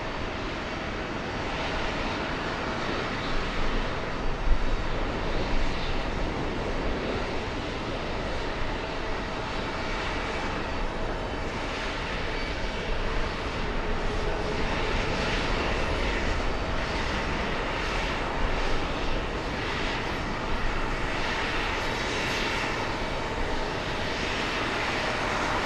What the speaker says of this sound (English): A lot of heavies arriving on the departure runway.